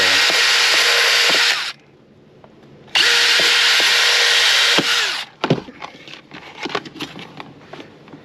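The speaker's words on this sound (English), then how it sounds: "and I put it on the bandsaw" A bandsaw cuts holster material in two loud, sustained bursts separated by a short pause, followed by close clattering and handling knocks as the piece is moved around.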